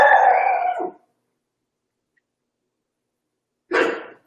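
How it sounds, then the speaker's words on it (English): A dog barks in two bursts, a long loud one at the start and a shorter one near the end, separated by several seconds of silence. "That's my dog in the background."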